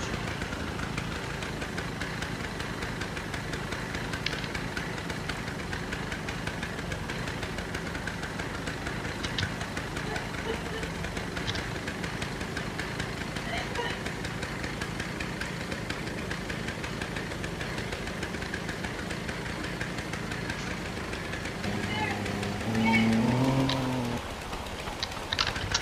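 A tractor engine idles close by with a steady, knocking low rumble that runs unbroken for nearly half a minute, with a brief shift in tone near the end.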